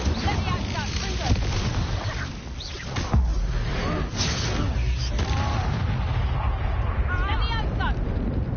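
Fire spells blasting in the Hogwarts Legacy video game, a dense continuous barrage of booms and crackling impacts through a busy battle, loud and close with constant noise from the fight.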